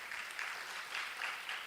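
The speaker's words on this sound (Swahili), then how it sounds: "Tuwapigie makofi" An audience claps at a panel discussion on parliament and democratic development, a faint, brief patter of applause at some distance.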